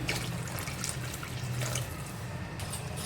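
A little water is poured into a simmering chicken kofta curry in a home kitchen, giving a soft continuous trickle and splash over low background noise.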